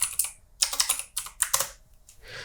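Computer keyboard typing in short clustered bursts of sharp key clicks, close and clear, with brief pauses between the bursts.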